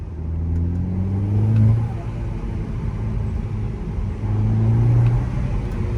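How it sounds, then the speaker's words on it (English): An Audi S3 8P with a 260 bhp turbocharged engine driving and dropping a gear, its engine droning and swelling in two surges from inside the car with the window open, a turbo blow-off flutter not clearly separable. "see if we can try and hear this blow off valve"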